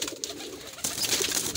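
Red wild pigeon squabs coo and murmur close by in a loft, soft at first and then louder and busier with overlapping bird calls.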